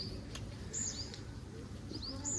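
Faint, thin chirps from small birds come a few at a time, with soft pigeon cooing and a low background hum.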